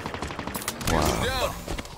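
Rapid bursts of gunfire from the Halo Infinite video game, a dense run of shots with ringing energy-weapon sweeps partway through, steady and loud across the whole moment, with a voice speaking briefly over it.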